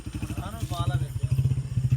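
A motorcycle engine idling close by with a rapid, even thumping pulse, its throb steady and loud for the whole moment while a voice talks briefly over it.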